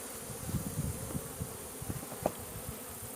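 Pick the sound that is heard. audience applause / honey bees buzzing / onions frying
honey bees buzzing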